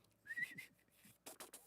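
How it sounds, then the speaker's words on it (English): A single person whistles a short, thin tune close by, with a brief rising note followed by a few breathy, airy bursts, fairly quiet and with no talking. "when you whistle, in order to whistle, you have to force air up and out"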